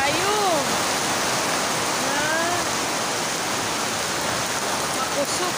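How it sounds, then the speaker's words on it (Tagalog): Heavy rain pours down in a steady, dense roar close by, unbroken throughout, with faint bird calls chirping over the downpour. "Makusog kayong ulan."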